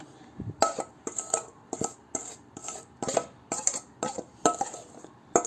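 Kacchi biryani ingredients being mixed with a cook's blend of whole garam masala, with rhythmic, close clinks and scrapes of metal against a pot or bowl repeating about every half second.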